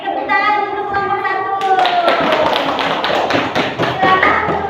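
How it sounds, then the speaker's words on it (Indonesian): Children in a primary school classroom clap for a presenting group, with a rapid stream of sharp hand claps under a teacher's voice and chatter from the kids. "tepuk tangan untuk kelompok"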